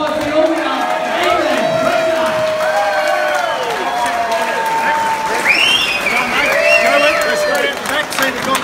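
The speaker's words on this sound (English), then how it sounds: "One more round of applause." Crowd noise at an MMA cage-fight event, a steady dense roar of applause and cheering that runs through the whole stretch, loud and continuous, with voices and shouts rising out of it.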